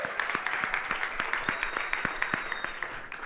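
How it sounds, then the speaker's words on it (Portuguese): An audience at a music class gives a round of applause, a dense, steady patter of many hands clapping close by. "Salve de palmas, Fabrício."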